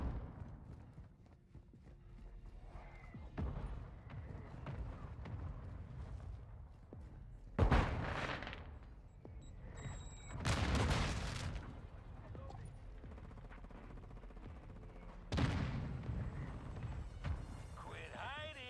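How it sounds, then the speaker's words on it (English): Mortar strikes in Modern Warfare 3 land as several separate booming blasts spread apart in time, each followed by a rumbling tail, over steady battle noise with people talking. "Hostile mortar strike near your position."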